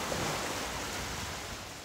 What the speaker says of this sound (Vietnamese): Ở đây nghe tiếng sóng biển cũng rất êm tai.